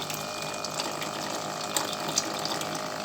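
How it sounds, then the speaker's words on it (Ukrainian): Water is forced through the radiator cooling system of a Malaguti scooter, giving a steady close hiss and rush with faint clicks and gurgles throughout. "І зараз хочу прогнати систему обичною водою."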